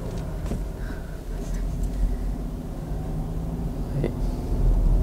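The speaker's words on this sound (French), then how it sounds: "Le moteur en 3 cylindres fait toujours un petit peu plus de bruit." Steady engine drone from a Volkswagen Polo three-cylinder while driving on a road, a continuous low rumble with road noise that swells slightly toward the end.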